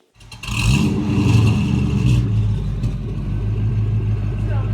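A car engine starts up with a brief rise in revs, then settles into a steady low, even idle rumble that continues close by, with faint clatter on top.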